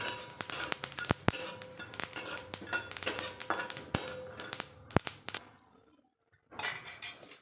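Roasted sesame seeds and peanuts tipped from a pan onto a plate, giving a run of sharp metallic clinks and scrapes that stop in a brief silence before more clatter.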